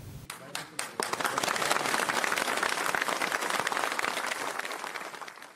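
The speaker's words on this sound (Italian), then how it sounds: "Un lungo applauso ha accompagnato la piccola bara bianca al suo ingresso nella chiesa gremita." Long applause rings through a crowded church at a funeral as a small white coffin enters, opening with a few scattered claps before swelling into sustained, dense clapping that slowly fades.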